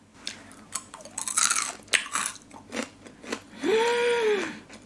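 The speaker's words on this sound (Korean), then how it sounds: "처음 씹었을 때 진짜 바삭바삭하고" Close, crisp crunching of a crunchy coconut and nut snack made with dried coconut chips, a series of loud bites and chews, one after another, with no talking.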